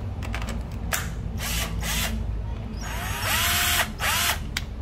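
A used Hitachi cordless drill whirs in a string of short bursts, then one longer run, the motor loud and close with brief pauses between trigger pulls.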